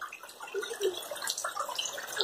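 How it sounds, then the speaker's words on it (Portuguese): Heavy Sunday rain pouring down outdoors, a dense, steady hiss of falling water with scattered drips and splashes throughout, close and continuous with no voices. "Domingo de muita chuva, gente."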